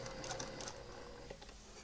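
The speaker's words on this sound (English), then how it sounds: "going to do a decorative stitch around this edge in order to ensure that that those edges stay down" A sewing machine running a decorative stitch along the edge of a quilted pillow cover, a quiet rapid mechanical whir and ticking, with a couple of faint higher clicks early on.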